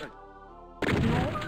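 A crusher trap slams down in a Doom WAD, a sudden heavy thunk that cuts in after a stretch of quieter tonal ambience and rings out loudly.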